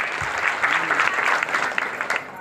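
Villagers at an outdoor public governance camp break into brief, dense applause, a steady patter of many hands at moderate distance.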